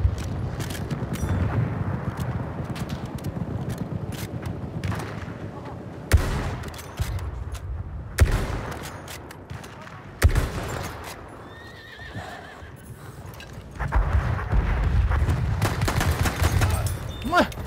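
Battlefield 1 combat with bursts of gunfire, sharp separate shots and rattling volleys at varying distance, mixed with horse whinnies and hoofbeats, and talking in places.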